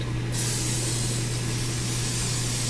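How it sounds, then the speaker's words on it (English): A continuous close hiss of non-stick cooking spray is directed onto a grill, a steady spray lasting a few seconds over a low constant hum. "And I'm just using the same non-stick spray that I used."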